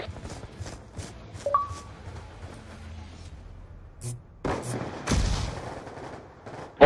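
Gunfire in the video game Call of Duty Black Ops 2, with scattered sharp shots and short bursts of varying loudness against a quiet game background, including a louder cluster near the end.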